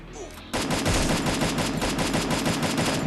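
Rapid automatic gunfire rattles in Free Fire, a sustained burst of evenly spaced shots that starts abruptly after a brief quiet lead-in and continues loud and close to the end.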